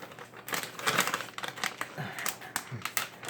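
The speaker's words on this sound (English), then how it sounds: "let's see if I can get this bag open" Crinkling and rustling as a bag of blanched almond flour is pulled open, a run of uneven crackles and sharp plastic snaps close to the listener.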